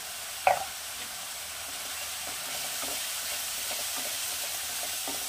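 Duck egg masala with turmeric, salt and chilli powder sizzles in a pan after one sharp utensil clink at the start, then settles into a steady low frying hiss with faint stirring taps.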